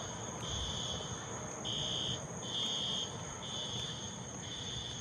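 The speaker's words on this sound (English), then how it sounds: "seems to be a fire alarm going off" A fire alarm sounds on the rooftop at Sugar Land, Texas: a steady, fairly faint high electronic tone pulsing in repeated bursts roughly every second, heard at a distance over a constant outdoor hum.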